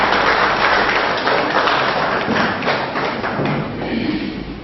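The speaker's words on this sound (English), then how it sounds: "it is right and proper for us to give ourselves a round of applause" A debate audience in Ilupeju gives a loud round of applause, dense continuous clapping with heavy thumping hands that swells and slowly tapers off.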